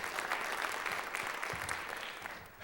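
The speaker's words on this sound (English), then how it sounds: "And just a round of applause for all of our sponsors," An audience in a village theater gives a round of applause for event sponsors. The clapping is continuous and evenly dense, tapering slightly near the end, with little else audible.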